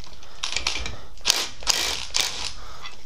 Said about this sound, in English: Now all we gotta do is buzz off this nut right here.